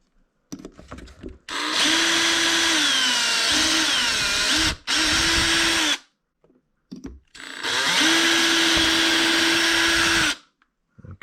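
A power drill whirs in several bursts of a few seconds each, drilling holes in a kayak, close and loud, with short pauses and quiet handling noises between runs.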